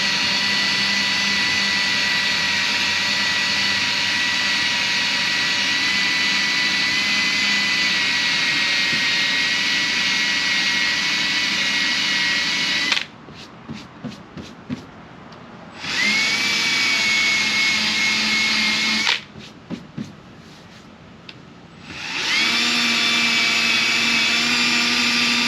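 Drill spinning an adhesive-removal wheel against molding glue on a 2008 Chevrolet Silverado body, a loud sustained high-pitched whine running in long stretches with two short pauses where it spins down and rattles, no talk.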